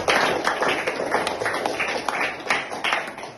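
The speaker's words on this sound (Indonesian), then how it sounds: "Tepuk tangan untuk teman yang sudah menjawab tadi." Classmates clap for a student who answered a question in class, a brisk cluster of hand claps blending into light applause, close and steady for a few seconds, with faint room noise.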